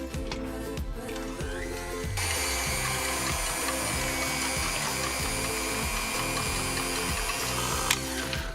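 Electric mixer on low speed beating egg whites with cream of tartar for a pavlova; a steady whirring, rattling motor hum that grows louder after a couple of seconds and runs continuously, with no talk.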